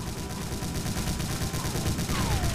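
Rapid, dense gunfire from the shooter game Doom 2, a steady loud barrage of overlapping shots with no pause throughout.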